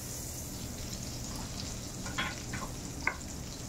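Half a head of garlic sizzles in hot butter in a pan, a steady close frying hiss broken by a couple of brief sharp spatters and crackles, with no voices.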